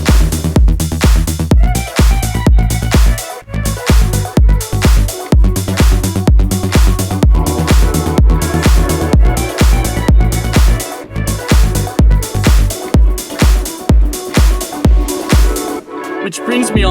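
A loud, glitched dance drum beat pounds with heavy kicks and chopped, stuttering hits in a driving pattern, dense and continuous, with brief dropouts and a sudden cut near the end.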